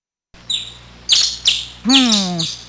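Bird chirping close and clear, a few short high tweets followed by a longer warbling call in a brief sequence.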